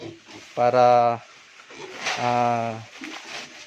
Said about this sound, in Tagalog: naghihintay yung mga biik natin